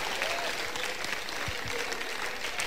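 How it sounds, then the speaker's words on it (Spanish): A church congregation applauds in steady, dense clapping that holds at an even level for a few seconds, with a faint murmur of voices beneath. "Denle un aplauso a Cristo,"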